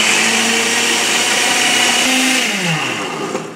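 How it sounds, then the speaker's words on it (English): A Ninja blender whirs loudly and steadily as it blends a very berry smoothie, the motor tone shifting and dipping in pitch near the end as the contents settle. "your blenders will vary. This is the Ninja."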